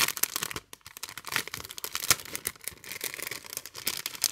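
Crinkly paper envelope tearing open and rustling up close, a dense run of rips and crackles with a brief pause near the start.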